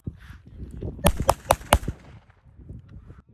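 Four sharp, loud gunshot cracks in quick succession, fired close beside a soldier during military training, with a narrating voice talking before and after.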